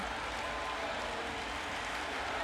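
A Brazilian crowd at a Paralympic swimming event in Rio roars and applauds in a steady, dense wash of cheering that echoes through the large aquatic arena, with no voices standing out.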